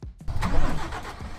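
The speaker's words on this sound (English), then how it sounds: "I'm going to turn my engine on" A Volkswagen Golf engine cranks and catches, then settles into a rough running rumble close by.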